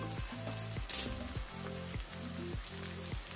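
Green chillies and curry leaves fry in hot oil alongside onions, giving a steady close sizzle with a brief bright crackle, while a repeating low hum pulses underneath; nobody speaks.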